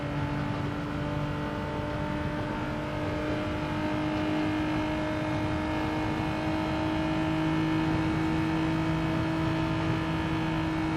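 Genesis GR4 race car engine in Gran Turismo 7 holding a steady, sustained drone at partial throttle, with even harmonic tones running throughout and no speech over it.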